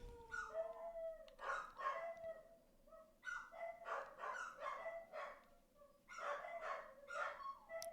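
Game dogs from Kitaria Fables bark and howl, drawn-out howls mixing with clusters of yips and barks that rise and fall in waves throughout, with no voices over them.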